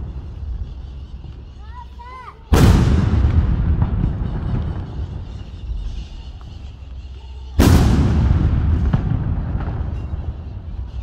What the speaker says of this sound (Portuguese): Obuseiro 155 mm.